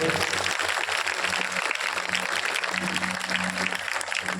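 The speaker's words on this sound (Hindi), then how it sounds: "आप सब एक बार तालियों से उनका स्वागत करें" Sustained clapping from a gathering at a Shrimad Bhagavat Katha religious event, welcoming the Sharma family, a continuous even wash of claps with a low steady hum beneath.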